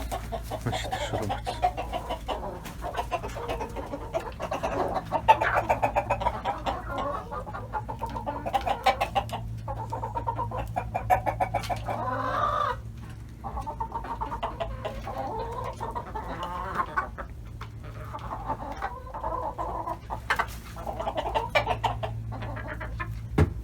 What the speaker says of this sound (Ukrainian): Одна головна курка залізла і всіх виганяє